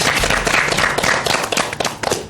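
A studio audience at a youth debate show claps in a dense, loud burst of applause that lasts the whole moment, with no voices over it.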